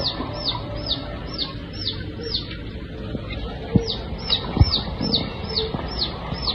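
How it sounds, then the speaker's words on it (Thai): High, thin cheeps from a chick fallen into a drain pipe repeat in a steady series, pausing briefly midway, over a low background rumble with faint knocks. "อยู่ใต้ท่อนะมีเสียงไก่ ลูกไก่มันตกลงไปนะ"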